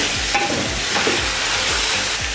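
Golden fried onions sautéed in a pan for sobat, a traditional Dera Ismail Khan dish, with a steady loud sizzle and repeated rhythmic stirring scrapes close up, no talking.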